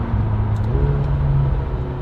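McLaren GT sports car engine pulling hard under acceleration, a steady loud low rumble with a rising tone, close and continuous with no talking.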